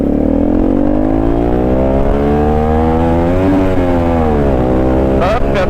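A Honda Magna 250 carbureted V-twin motorcycle on a test ride, its engine droning loud and close as revs climb smoothly, dip, then rise again, with steady wind rush throughout.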